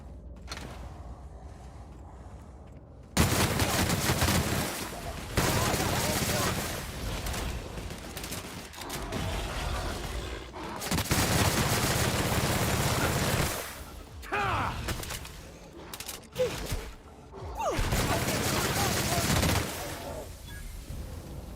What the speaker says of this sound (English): let's switch out to our acid gun